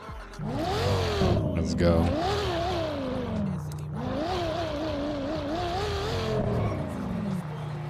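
A Lexus engine in GTA 5 revs and shifts through rising and falling gear pulls, loud and continuous with tire noise, while someone talks over the driving.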